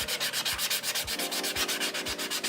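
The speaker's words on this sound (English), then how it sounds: "I'm going to go now with a 220 grit sponge." A wooden mug is sanded by hand with a 220 grit sanding sponge, giving close, loud, steady back-and-forth rasping strokes in a quick even rhythm, about five strokes per second.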